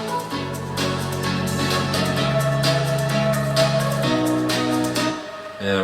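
The melodic breakdown of a house track unfolds with sustained layered chords and a shifting bass line beneath a bright, rhythmic upper texture, loud and continuous with no voices.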